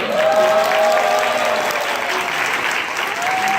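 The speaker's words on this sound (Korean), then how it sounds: "박수 좀 보내주세요." Steady applause from a crowd at a reading camp fills the whole stretch, loud and sustained with no pauses.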